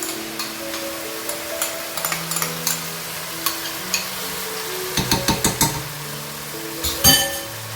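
Tomato paste, ketchup, puree and chili sauce are stirred into a hot pan, with a steady low sizzle under repeated scraping and clinking of a spoon, which speeds into a quick burst of strokes near the end.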